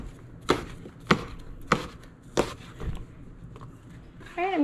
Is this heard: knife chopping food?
yes